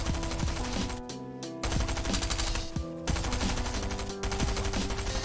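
SMG fire in a Fortnite creative map, loud rapid bursts of automatic gunfire with short pauses between strings of shots, close and continuous with no talk.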